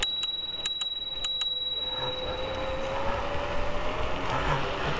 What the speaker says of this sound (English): Let's try out the bell.